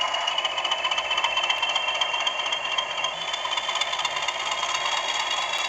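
A Bachmann model locomotive's sound function plays a continuous rattling engine chug with its throttle rising, a steady mechanical clatter at moderate level with no pauses.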